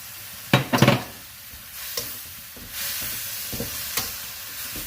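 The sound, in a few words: spring greens stir-frying and sizzling in a pan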